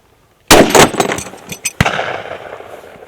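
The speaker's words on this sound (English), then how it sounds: "M&P, 40 cal, a common duty weapon, and he's shooting at a little low" Sharp, loud pistol shots from a Smith & Wesson M&P .40 caliber duty pistol fired at contact distance into body armor: a quick burst of two or three close reports followed by a single later shot, with echoing decay.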